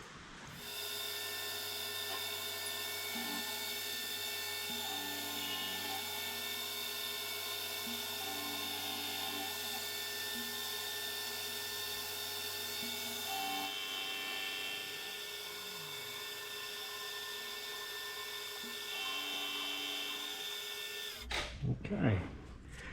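A milling machine cutting metal runs steadily for a long stretch, a constant whine and hum with shifting cutting tones, ending with a few clunks as it stops.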